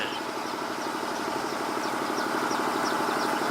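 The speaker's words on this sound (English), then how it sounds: "Sound of the motor vehicles" Steady low rumble of engines idling or running somewhere far off, continuous and fairly faint, with thin high bird chirps scattered above.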